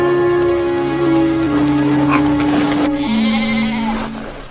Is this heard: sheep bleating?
yes